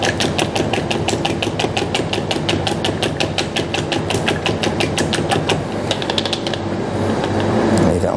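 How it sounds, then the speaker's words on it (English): A whisk beats one egg in a small bowl, a steady rapid rhythmic tapping that runs close and fairly loud for several seconds, easing off near the end. "Give that a little whisk just to beat that up."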